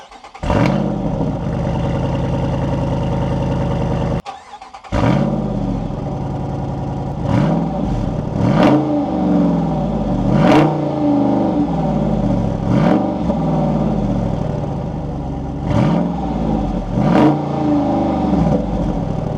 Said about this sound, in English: now let me start this up so you know what this sounds like